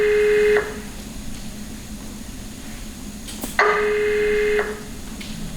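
A mobile phone ring tone sounds twice, each a long steady electronic tone about four seconds apart, with quiet background between.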